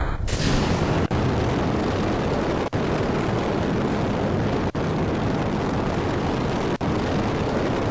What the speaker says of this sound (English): these motors are still fucking loud as shit